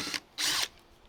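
A power drill drives homemade pocket screws: a short whir, a pause, then a louder, higher-pitched burst of whining motor, close and alone.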